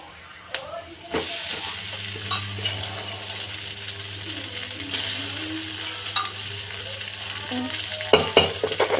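Rice frying in a pan for a breakfast dish, with steady sizzling and repeated scraping of a spoon as it is stirred, close and fairly loud, a low hum beneath and a voice speaking partway through.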